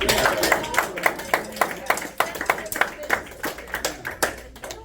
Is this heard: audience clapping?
yes